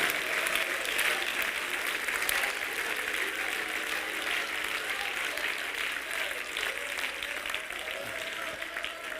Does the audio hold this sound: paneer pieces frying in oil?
no